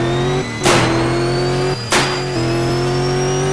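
Car engine in the Roblox video game holds a steady buzzing drone, broken twice by sharp whooshing bursts that briefly swell and fade before the engine tone resumes; loud and close, no talking.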